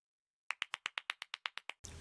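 Eleven sharp hand claps in an even, quick rhythm, close and loud after a moment of silence, followed by a brief burst of broadband noise.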